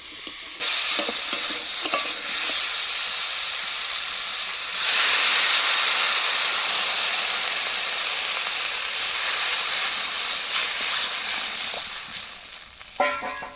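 Potatoes sautéing in a pan for a thin Bengali fish curry, giving a steady loud sizzle and hiss with stirring scrapes throughout, no voices.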